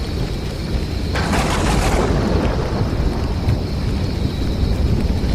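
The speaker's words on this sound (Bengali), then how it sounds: "ঝড়ে পেছনের গাছগুলো দুলছে" A night thunderstorm brings steady rain and wind, with a burst of thunder rumbling and crackling for about a second before the downpour settles back to a constant hiss.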